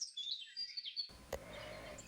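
Birds chirping and singing outdoors on a cool spring day with wet grass and bare trees, several high tweets and calls in quick succession, fairly clear and close, then a softer, steadier background ambience.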